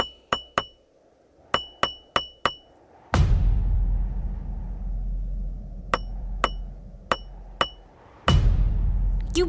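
Sharp metallic strikes ring out one at a time in irregular bursts, several quick hits in a row, with a loud low rumble starting partway through and continuing underneath.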